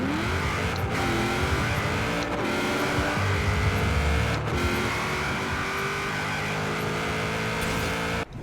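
A Buick Regal in the racing game Forza Horizon 4 revs hard for a drag launch, a loud sustained engine roar climbing through the revs with brief gear-shift dips, close and continuous throughout.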